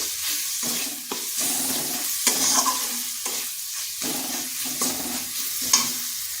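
Spice paste of ground coriander and Kashmiri chili powder being stirred and fried in a pan, a steady close sizzle broken by repeated scraping strokes of the spoon, with no talking.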